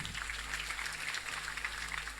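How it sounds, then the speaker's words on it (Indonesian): Lively applause from an audience at a haul memorial gathering for KH. Dachlan Salim Zarkasyi, a dense steady wash of many hands clapping throughout, fairly distant and even. "Tepuk tangan yang meriah"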